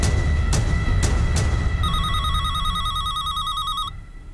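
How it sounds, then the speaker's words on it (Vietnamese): A telephone rings loudly and close, with several sharp bell-like bursts followed by an electronic warbling ringtone that stops abruptly, set in a quiet indoor scene. "Tôi nghe điện thoại."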